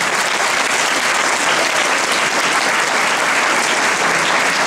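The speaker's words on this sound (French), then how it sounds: "j'aimerais qu'on l'applaudisse très fort" An audience at a youth sports trophy ceremony applauds loudly for a junior champion, a dense, steady wash of clapping that fills the whole stretch without pause.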